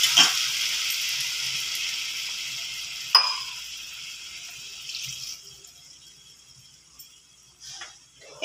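Ground spice paste hits hot oil in a pan with drumsticks, giving a loud, bright sizzle at the start that fades, with a sharp spit partway and softer frying that continues and then trails off.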